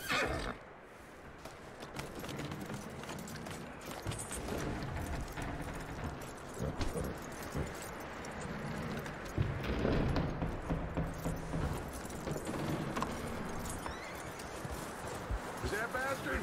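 Horse neighing and hooves clip-clopping in the Red Dead Redemption 2 video game, the whinny and steady hoofbeats heard under talking and background game sounds throughout.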